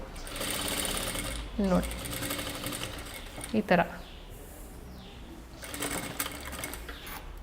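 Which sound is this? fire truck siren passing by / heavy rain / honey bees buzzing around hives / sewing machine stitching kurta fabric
sewing machine stitching kurta fabric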